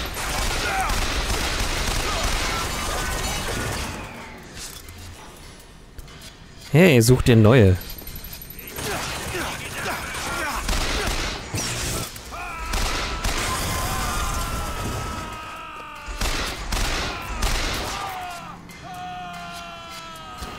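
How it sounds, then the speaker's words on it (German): Gunfire in the video game Bioshock Infinite: a loud burst of shots near the middle stands out over a busy game soundscape, with someone talking over much of it. "Wer schießt da?"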